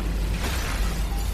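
A huge blast effect from a Chinese donghua fight scene, a dense roaring rumble that swells and churns continuously, loud and close, with no voices over it.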